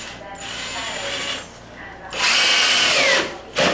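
A power drill drives 2-inch bolts at an angle into a door frame: two long, whining bursts of motor noise separated by a brief pause, with a short final burst as the bolt seats.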